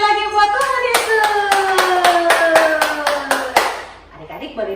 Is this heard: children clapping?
yes